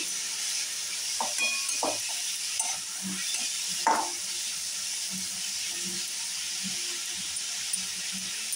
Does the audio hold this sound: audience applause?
no